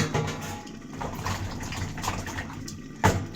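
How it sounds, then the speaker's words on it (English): Spinach simmering in a pot on a home stove, a steady low bubbling and hiss with clattery kitchen noise throughout and a sharper knock near the end. "Can you hear my special spinach simmering?"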